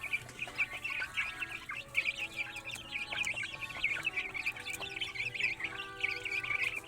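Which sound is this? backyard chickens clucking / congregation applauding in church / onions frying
backyard chickens clucking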